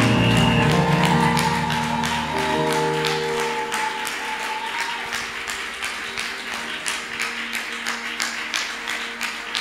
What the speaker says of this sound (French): Put your hands together for the King of Glory